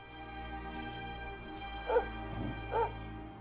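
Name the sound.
dog Sandy barking, from a video game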